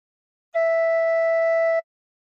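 A single soft tin whistle note with four holes covered, held steady for about a second and a quarter, clear and alone.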